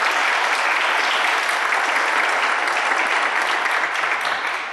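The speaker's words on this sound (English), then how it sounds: "let's give them a round of applause" Audience applause at a conference panel session, steady dense clapping from a large crowd throughout, loud and continuous with no speech.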